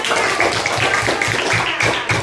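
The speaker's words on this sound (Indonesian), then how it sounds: "Oke, tepuk tangan." Classroom clapping from students right after a group presentation on making instant noodles, a steady dense patter of many hands, fairly loud and close, with faint voices mixed in.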